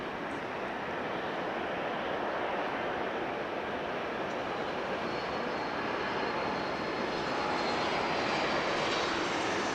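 A Flair Airlines jet at LAX roars with a steady, broad engine noise that holds loud and even throughout.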